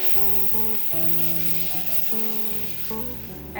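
Onion, garlic and ginger paste sautéing in a pan for a rohu fish curry, a steady soft sizzle running under background music with sustained tones.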